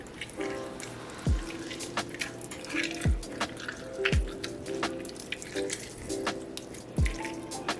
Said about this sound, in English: So I'm gonna add some lemon juice.